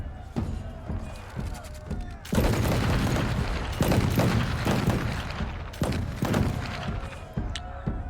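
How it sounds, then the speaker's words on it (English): Arquebusiers in Pillars of Eternity, at the Battle of Yenwood Field, fire a salvo into enemy ranks: a dense burst of overlapping loud gunshots and booms, with a narrating voice talking before and through the volley. "The arquebusiers quickly form a line and unleash a salvo of gunfire into the battle mage ranks"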